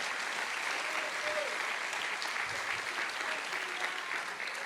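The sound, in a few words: congregation applauding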